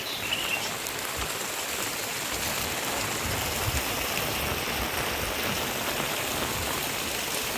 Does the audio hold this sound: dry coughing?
no